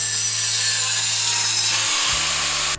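Power saw trimming a wooden part during a vehicle build, a continuous harsh whine cutting through wood with a steady hum that shifts in pitch near the end before stopping abruptly.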